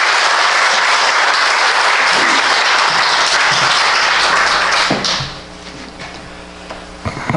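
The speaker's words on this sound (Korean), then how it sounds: "박수로 맞이하겠습니다" A church congregation at a Sunday worship service gives strong, continuous applause to welcome a missionary coming forward to preach. After about five seconds it fades, leaving soft scattered claps over a steady tone.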